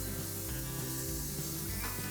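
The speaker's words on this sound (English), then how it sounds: "Good sizzle there." A continuous hiss of 85/15 beef burger patties frying on a Monument Mesa II 415 BZ gas grill, even and unbroken, with faint low rumble beneath and no voices.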